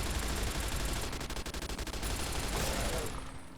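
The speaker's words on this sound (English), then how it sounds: "Pulling out the overpowered machine gun." Overpowered machine gun in a video game fires a long, loud sustained burst, with rapid repeated shots tightening into a fast stuttering rattle midway, then trailing off into ringing noise.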